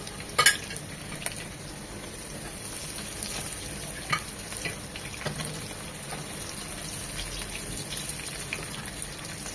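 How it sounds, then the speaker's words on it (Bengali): Pre-boiled, marinated chicken-pan liver pieces fry in a little leftover oil in a used pan, giving a steady close sizzle with a few sharp pops and clinks near the start and scattered crackles throughout, no talking. "তেল ছিল সামান্য, তাই এই তেলেই ভেজে নিচ্ছি কলিজাগুলো"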